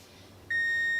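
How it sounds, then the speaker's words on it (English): A kitchen timer lets out a single sustained electronic beep partway through, loud and close, cutting in after a quiet stretch of faint room noise. "timer up"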